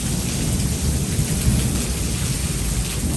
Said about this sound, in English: Over there, I heard thunder.